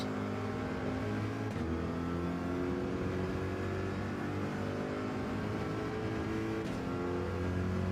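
Corvette race car engine in Gran Turismo 7 holding a steady, loud drone with shifting harmonic tones across the whole stretch, a couple of brief dips suggesting gear changes, with no talking.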